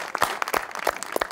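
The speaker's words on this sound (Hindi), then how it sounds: "बहुत सारी तालियां जी" Applause from a crowd, a quick run of sharp claps with uneven rhythm, fairly close and moderately loud, with no one speaking.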